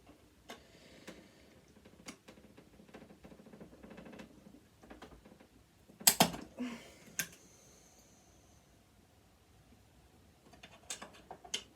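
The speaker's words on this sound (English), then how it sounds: "That actually chipped away part of the screw." A screwdriver works a screw while a sewing machine is being taken apart, making faint, sparse clicks and ticks, then one sharp scraping burst in the middle as metal gives way, followed by a few more small taps.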